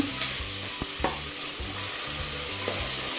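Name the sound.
tomatoes frying in oil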